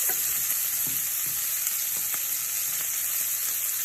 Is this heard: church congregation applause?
no